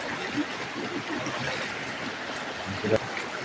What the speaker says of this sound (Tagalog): Sapa pala.